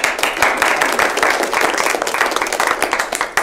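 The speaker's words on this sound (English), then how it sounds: "I'd like you all to join me in another round of applause" An audience breaks into dense, continuous applause, many hands clapping at once, loud and sustained throughout.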